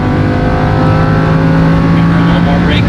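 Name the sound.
race car engine accelerating on track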